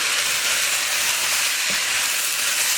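Onions and other vegetables are stirred into a hot roux for gumbo, giving a steady, loud, hissing sizzle that runs unbroken throughout with no talk.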